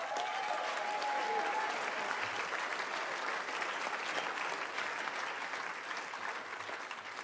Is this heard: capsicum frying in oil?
no